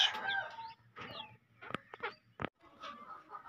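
Chickens cluck and squawk in scattered short calls in a village in Pakistan, with a few sharp clicks and rustles nearby; fairly close, no clear talking.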